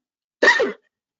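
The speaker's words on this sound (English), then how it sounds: "I'm coughing." A single short cough, close and clear, standing alone in an otherwise silent moment during a webinar.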